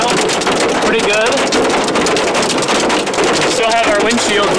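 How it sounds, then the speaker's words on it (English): Dime-sized hail pelts a car during an Illinois storm chase, a dense, continuous loud clatter and roar against the roof and glass, with people talking over it inside the vehicle. "this is a probably dime-sized hail, pretty good."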